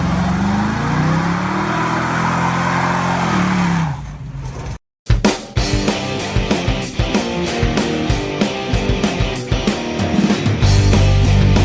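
A 1970 Dodge Dart with a 318 V8 on a dyno, the engine droning and rising in pitch, cutting off briefly, then revving hard in rapid repeated pulses, loud and close.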